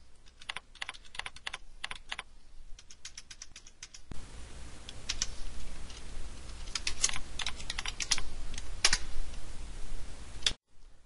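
Computer keyboard typing: bursts of quick key clicks, sparse at first and then a denser run of taps over a soft steady background hiss, close and fairly quiet, with no voices.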